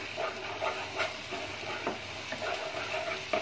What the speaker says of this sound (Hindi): टमाटर भी हम बढ़िया से मिक्स करेंगे।